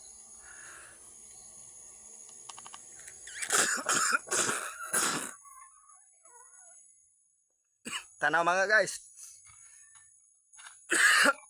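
A person coughing in a quiet room, several short harsh bursts in two clusters, close and fairly loud, with a few throat-clearing sounds between soft background hiss.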